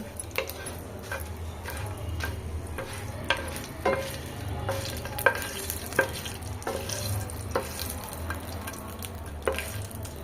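Dried red chilies frying lightly in oil in a kadai for onion chutney, with a steady low sizzle and repeated sharp scraping stir strokes up close, no speech.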